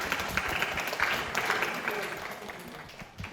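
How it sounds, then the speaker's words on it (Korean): Congregation at a church youth service claps to welcome a deacon, a brief burst of many hands clapping at moderate volume with some voices mixed in. "박수로 우리 집사님 맞이하게 됐어요"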